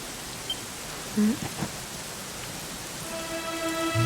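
Steady rain falls in the video game Dragon Quest XI Echoes of an Elusive Age, a constant even hiss with a brief low rumble partway through and faint game sounds at the end.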